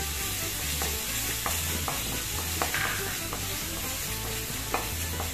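Ginger garlic paste fries in refined oil for a Mughlai chicken, a steady close sizzle with a spatula scraping and stirring in a regular rhythm, no voices.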